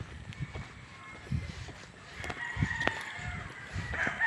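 Roosters crowing from roadside chicken farms in the Philippines, a repeated call rising out of steady outdoor ambience with footsteps and faint clucking underneath, moderately distant.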